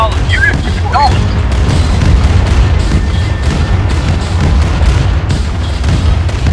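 Airstrike explosions pound away in the Command & Conquer remake, a loud, continuous barrage of booming blasts and crashes layered with dense battle noise, with brief unit chatter faintly present.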